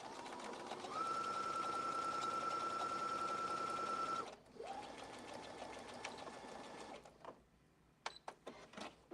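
A sewing machine lock stitches seams on a handmade bag, running in a fast steady whir for about four seconds, then a second shorter run, ending in a few clicks and taps.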